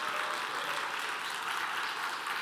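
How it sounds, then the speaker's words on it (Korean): A church congregation claps in a steady, dense burst of applause, fairly soft and evenly sustained throughout. "우리 박수 한번 잠깐 나오세요."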